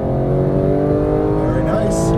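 A Porsche GT3 991 powers out of a corner on the Las Vegas track, its engine note loud, close and sustained throughout, with a low steady drone and a brief higher squeal toward the end.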